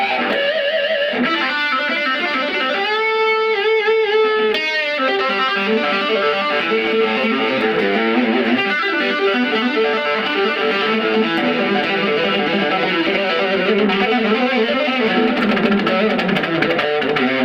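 Distorted electric guitar through a Fender Vibro Champ XD amp plays sustained chords and riffs with a washy reverb tail, loud and continuous throughout.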